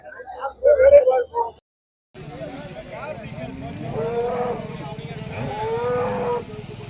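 Cattle at a rural Tamil Nadu cattle market where dairy cows and calves are sold, with a loud close moo at the start followed by a continuous crowd murmur and livestock noise.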